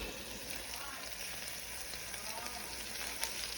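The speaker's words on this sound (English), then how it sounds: "Look, you hear that, y'all? This is from air frying." Steady, dense sizzling hiss of chicken wings cooking in an air fryer, even and continuous throughout, with no talking.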